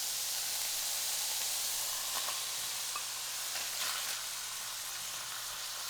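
Browned beef in a hot pan as Korean barbecue sauce is added, a constant broad sizzling hiss at steady level with faint crackles.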